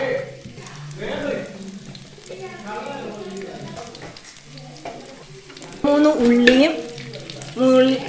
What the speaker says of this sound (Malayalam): ഉള്ളി കൊത്തി അരിഞ്ഞത്, കുറച്ച് കടുക്, കരിയാപ്പില 2 തണ്ട് ഇട്ടു.